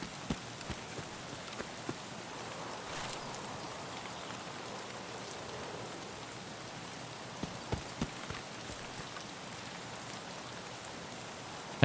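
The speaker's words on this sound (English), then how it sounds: "Thankfully, there's rain and fog." Steady rain patters across surfaces in the game Escape From Tarkov, a soft, even hiss with occasional sharper drips and faint footstep-like knocks, quiet and ambient throughout.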